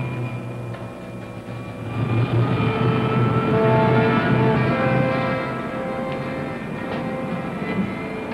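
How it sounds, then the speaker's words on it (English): A sci-fi jet engine starts up and swells to full blast, a loud, sustained roaring drone with a whining tonal hum that builds over a couple of seconds and then holds steady. "Starting jet."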